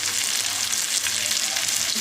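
Mackerel frying in oil on a tawa, a loud, close, continuous crackling sizzle with no pauses and no voices.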